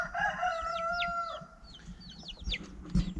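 Bantam chickens on a small farm cluck and chatter, with crowing-like calls and short rising squawks. The sound is moderately close and layered over a low background rumble.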